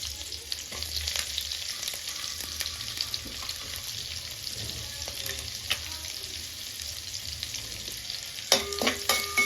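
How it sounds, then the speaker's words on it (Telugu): Ginger pieces and green chillies fry in a pan with a steady bright sizzle, with occasional stirring clinks and scrapes near the end. "అల్లం ముక్కలు లైట్గా ఫ్రై అవ్వాలి"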